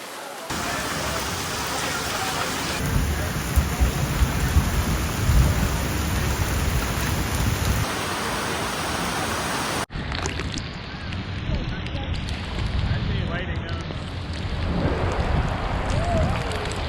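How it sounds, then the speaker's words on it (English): Heavy rain pours down steadily at Railay Beach, Krabi, Thailand, with deep rumbles of thunder rolling through, loud and enveloping, the downpour continuing throughout. "we hid at a bar and watched the storm come through instead"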